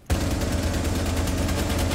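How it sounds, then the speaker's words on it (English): Rapid bursts of gunfire in the game Rainbow Six Siege rattle continuously after a sudden start, dense and loud with no pauses or voices. "Hearing all these gunshots and not seeing a single soul."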